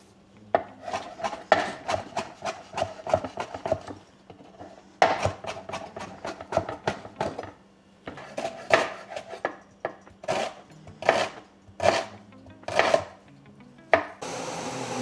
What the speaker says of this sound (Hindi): ये है एक प्याज, टमाटर एंड हरी मिर्च। तो इसको मैं फटाफट काटता हूँ।